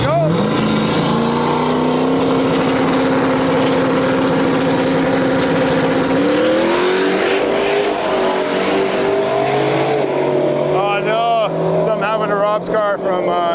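Drag racing cars at Interlake Dragway on Canada Day, engines droning loudly and steadily before rising sharply in pitch as they launch, with talk heard over the roar.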